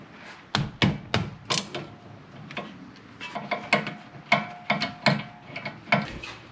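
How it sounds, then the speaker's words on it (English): Bursts of rapid ratchet clicking from a 12 mm socket loosening a bolt on the brakes of a 2012 Acura TSX Special Edition during a rotor and pad job, loud and close, with short pauses between strokes and no talking. "We're going to come here and we're going to loosen this bolt."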